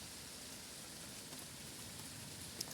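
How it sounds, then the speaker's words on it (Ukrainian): Summer rain falling in a garden among hostas and astilbe, a faint, steady broadband hiss of drops with no talking, one slightly louder drip near the end. "Дощик все радіє, грім погримує десь далеко."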